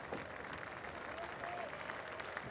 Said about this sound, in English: The applause go round.